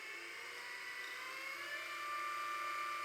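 A T64S coffee grinder motor running at 2000 RPM gives a steady, smooth high-pitched whir, fairly quiet and unbroken, with no other sounds.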